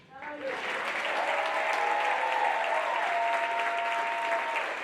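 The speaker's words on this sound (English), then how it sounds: "Please give our incredible speakers a round of applause" Audience at a conference event breaks into applause for speakers, the clapping rising quickly and holding as a loud, dense, sustained ovation, with a faint tonal hum running underneath.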